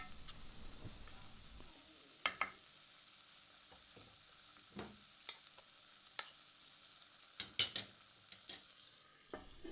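Soft, quiet sizzling of a duck and black olive stew cooking in a covered cocotte pot, broken by a few light clinks and knocks at irregular moments.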